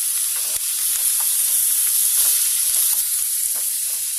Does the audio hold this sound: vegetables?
yes